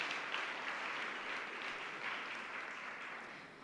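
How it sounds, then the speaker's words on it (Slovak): Audience applause at the Purpurové srdce 2014 ceremony, a steady, even clatter of many hands clapping, heard at a moderate distance and sustained without a break throughout. "Taktiež potlesk."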